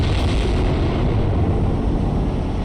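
A continuous, loud explosive roar with crackling rumble from an intercepted missile exploding in the naval game Cold Waters, sustained without pause as if from a blast and its aftermath.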